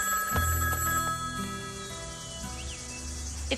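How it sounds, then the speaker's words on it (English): A payphone rings with a bright, repeating electronic bell in a quiet room, the tone steady and moderately loud, with no talking over it. "It's just a payphone, sir."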